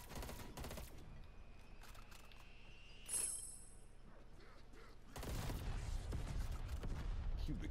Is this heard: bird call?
no